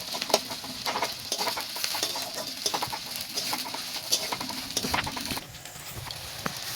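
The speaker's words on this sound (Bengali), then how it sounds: "পেঁয়াজ পড়ে গেছে তেলের ওপরে। পেঁয়াজ এখন ভাজা ভাজা হবে" Onions sizzle steadily in oil in a pan with occasional stirring scrapes, a busy crackling frying sound close up with no talking.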